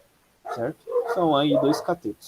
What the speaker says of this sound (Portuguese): Perdão o barulho aí, gente, que o cachorro aqui estão atacado agora